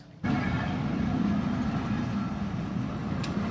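A passenger train at a station on a journey from Tangail to Dhaka, a loud steady rumble starting abruptly and continuing without pause, with no talk.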